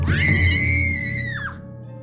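Women scream in panic as a car skids off a road, a single loud, high, sustained shriek lasting about a second and a half before fading, with no speech.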